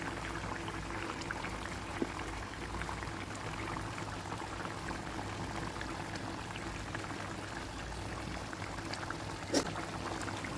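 Fish curry broth bubbling in a pot after water is added to fried fish, a steady rolling boil with a couple of small clinks, no talk.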